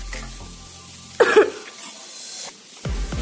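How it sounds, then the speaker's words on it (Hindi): A cough during a spicy golgappa-eating challenge at home, one short harsh burst in the middle over faint background noise and frying-like hiss. "मेरी खांसी अभी सही नहीं हुई है।"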